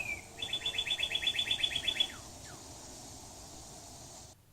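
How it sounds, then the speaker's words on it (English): A bird sings a rapid, even trill of about a dozen bright notes along a wooded hiking trail on Rattlesnake Mountain, then gives two short downward calls. It is fairly near and heard alone over a faint steady hiss. "Hear that bird? I wonder what kind of bird that is."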